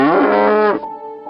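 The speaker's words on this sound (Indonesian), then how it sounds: "Dan suara kerbau seperti memanggil diriku seakan mengajak pulang." A water buffalo calls with a single long, loud, harmonic moo lasting most of the clip, close by in an evening rural pasture in Lebak, Banten, ending in a quieter sustained tail.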